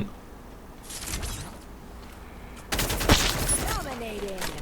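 A Trogon gun fires in a video game: a short muffled burst early on, then a louder, sharper rapid burst of gunfire followed by fading mechanical rattles.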